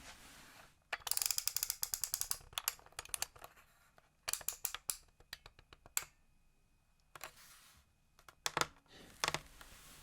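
A clothes iron's temperature dial turned up to its highest setting for cotton shirts, giving close bursts of rapid ratcheting clicks separated by short pauses, crisp and quiet.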